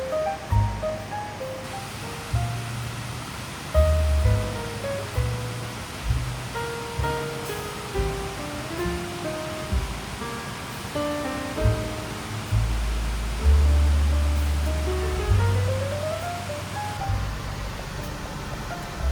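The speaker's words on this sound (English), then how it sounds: "the waterfalls were running strong." A waterfall in the Columbia River Gorge, swollen after heavy rain, gives a steady, close rushing roar that never lets up, with faint low tonal sounds drifting over it.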